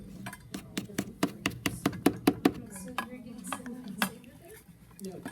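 A food processor pulsing rugelach dough with sour cream, a rapid series of about a dozen sharp clattering bursts, then a few scattered knocks, with a voice talking over it.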